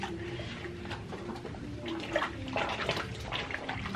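A baby's back being scrubbed during a bath, soft rubbing and splashing of water at close range, fairly quiet with a few louder sloshes near the end.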